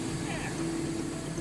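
A United Airlines aircraft jet engine with a fault makes a steady low idling drone that holds level and continuous throughout, with a faint talking voice just audible underneath.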